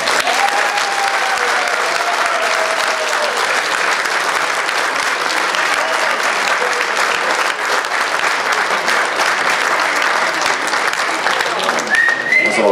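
Sustained audience applause at a Jobbik party May Day festival, a dense steady wash of clapping lasting throughout with crowd noise and faint voices underneath.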